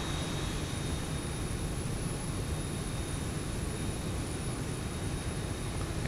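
Boeing 737-700 jet engines idle as the airliner taxis at Corpus Christi airport in a flight simulator, a steady, continuous broadband roar with a faint high whine, holding level throughout with no talk.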